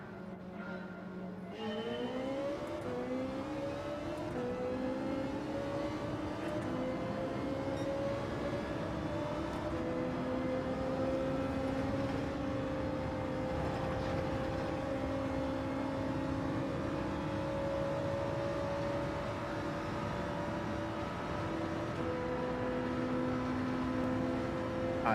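Race car engine droning steadily at Spa in Gran Turismo 7, a continuous loud tone whose pitch climbs after a start and holds through long straights, with slight shifts as gears change.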